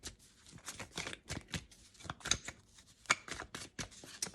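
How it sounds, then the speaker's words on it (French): Oracle cards being shuffled by hand, a quiet close series of crisp riffling and slapping strokes in an irregular rhythm, with no talking. "on bat les cartes"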